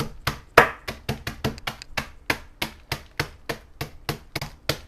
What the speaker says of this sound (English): Just going to add mine to a baggie and just beat it up a few times.